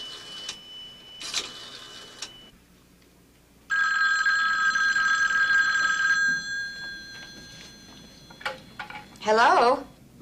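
Telephone ringing indoors in a 1979 drama, a bright electric bell rung in short bursts between quieter stretches, with a longer ring in the middle and a voice briefly heard near the end.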